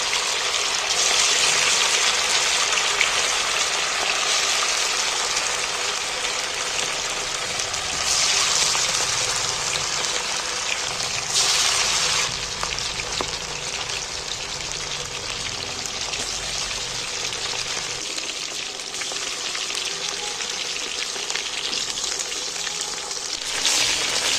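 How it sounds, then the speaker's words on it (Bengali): Chicken pieces sizzle and crackle in hot oil in a pan, a loud continuous frying hiss that swells in bursts as more meat goes in, heard alone without talking. "আমি বাকি মাংসটা তুলে দিচ্ছি তেলের মধ্যে"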